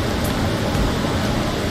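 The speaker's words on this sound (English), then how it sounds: "Yo, it is raining hard right now." Heavy rain in the game Aloft, a dense, loud, steady hiss of downpour with no pauses.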